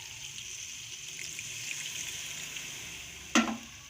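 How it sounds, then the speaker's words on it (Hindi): Daal with tomato and a splash of water fries in a pan, a steady soft sizzle with a sharp clatter of stirring near the end, no voices. "इसको 5 मिनट के लिए भूनते हैं।"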